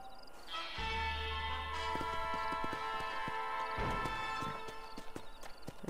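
Hooves of a Kentucky Saddler horse in Red Dead Redemption beat out a steady, close clip-clop that runs through the whole stretch, laid over a sustained bed of game music and ambience.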